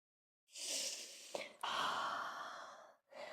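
A long, deep exhale during an intermediate yoga flow, breathed out steadily and close, briefly broken by a catch and then resumed, followed by the start of another breath.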